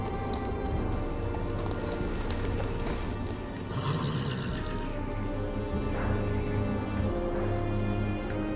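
Horse hooves clip-clop steadily on a hard surface in the Telltale Game of Thrones video game, set at the Wall, mixed into a dense, continuous ambient backdrop with a faint whinny-like rumble.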